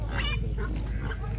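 Pigs at an outdoor livestock fair selling sheep, goats and pigs, grunting and squealing close by in a continuous jumble over low background rumble.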